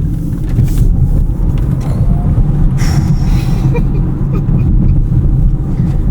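A Polestar 2 Performance Plus electric car drives at night, a loud, steady rush of road and wind noise heard from inside the cabin throughout, with faint voices now and then.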